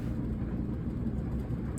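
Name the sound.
clothes dryer recording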